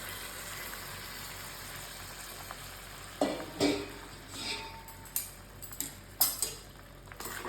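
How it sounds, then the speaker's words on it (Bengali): Spoon stirring milk into carrot halwa in a pot, giving soft scraping and sizzling with a few sharper clinks against the metal, steady and close with no talking. "ভালো করে মেশ করছি।"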